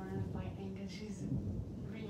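A thunder sound effect plays as a steady, dense rumble with rain-like hiss, continuous and fairly loud for a couple of seconds, with no clear talking.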